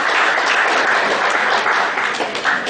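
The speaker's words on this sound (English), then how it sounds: "Big round of applause once again." Sustained applause from a seminar audience, dense and steady throughout, loud and close, with no speech over it and only a slight dip near the end.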